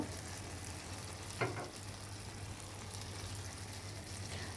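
Tomato sauce added to a peanut chicken stir-fry over high heat, giving a soft, steady sizzle and hiss from the hot pan, with one brief clunk early on and no talking.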